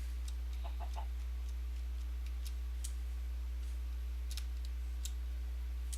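Chickens in the water in Minecraft with the Better Than Wolves mod, with scattered soft clucks and sharp ticking clicks spread over a constant low hum.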